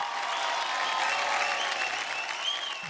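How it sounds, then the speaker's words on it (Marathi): An audience at a Marathi television stage show claps together in warm, sustained applause, with a dense, even patter that fills the whole moment. "या पोरीसाठी जोरदार टाळ्या होऊन जाऊ द्या"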